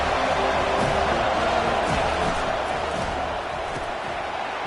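The home crowd roars in EA College Football 25 as the defense tries to get off the field on third down: a steady, fairly loud stadium wash of cheering that eases slightly toward the end.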